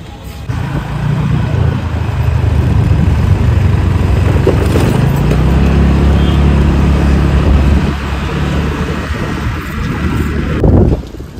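An auto rickshaw's engine drones steadily from a close position, a continuous low motor rumble mixed with road and wind noise that holds for most of the stretch before dropping away near the end.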